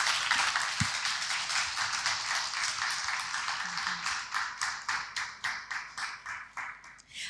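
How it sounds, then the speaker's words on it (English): Audience applause at the close of a talk at the Bangkok Art and Culture Center, a steady crowd of clapping hands sustained for several seconds, then thinning out into scattered claps near the end. "Please give us a round of applause for our speakers."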